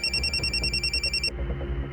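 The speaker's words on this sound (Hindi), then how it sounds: "उसी नंबर से फोन आया।" A telephone rings with an incoming call: a rapid, loud electronic trill pulses over a low background hum, then cuts off abruptly partway through, with no talk.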